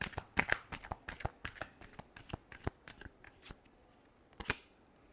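Tarot cards shuffled by hand in a quick run of crisp riffling slaps and flutters, fairly close and moderately loud, with no talking.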